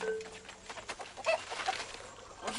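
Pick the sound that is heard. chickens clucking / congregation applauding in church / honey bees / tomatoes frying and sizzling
chickens clucking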